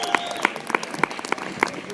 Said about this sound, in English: Give Mark another round of applause, please, people!